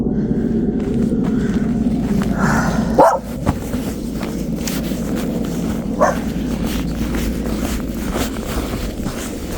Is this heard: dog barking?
yes